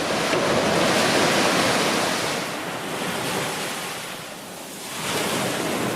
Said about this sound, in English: watch the tropical diver dump tank make some waves